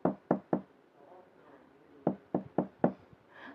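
Knocking on a door in two bursts: three quick raps, a pause with faint murmuring, then four more firm raps, close and clear.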